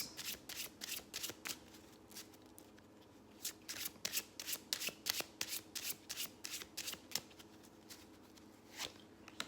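Customized Bicycle playing cards shuffled by hand in a quiet room, a long run of crisp riffling bursts and soft taps repeating close up with short pauses between.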